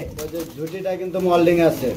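Bombay pigeons coo in low, throaty rolls that repeat steadily, fairly close, with people talking over and between the calls at a pigeon sale.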